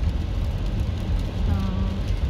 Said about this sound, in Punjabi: ਮੀਂਹ ਕਾਫੀ ਤੇਜ਼ ਆ ਰਿਹਾ ਸੀ।